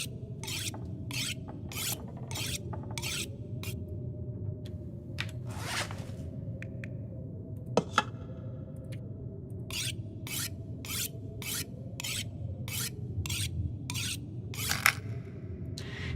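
A blade is sharpened on a whetstone in The Long Dark, a series of close, rhythmic rasping strokes in bursts, separated by short pauses over a low steady hum.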